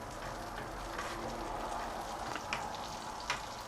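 Steady sizzling of cumin seeds frying in melted butter, a dense crackling hiss with a few brighter pops, close by and with no voices.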